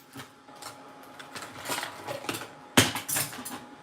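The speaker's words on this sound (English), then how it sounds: "That was the sound of me losing my T-square." A T-square falls onto a craft table and clatters, with a scatter of light knocks and one sharp loud crack near the end, close and fairly faint, with no talk.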